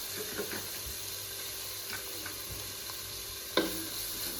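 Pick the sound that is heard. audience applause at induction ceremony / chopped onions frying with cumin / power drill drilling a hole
chopped onions frying with cumin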